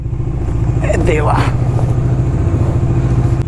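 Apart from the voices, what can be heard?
motorcycle engine starting and revving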